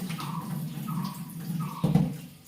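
Vegetables are washed under running water, a steady, fairly close gush with intermittent splashing and a stronger splash near the end, and no talking.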